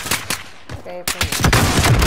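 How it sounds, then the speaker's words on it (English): Loud, rapid bursts of gunfire from Call of Duty: Modern Warfare during a flag-capture match, shots cracking in quick clusters with brief gaps and a dense barrage toward the end. "I just shot that one!"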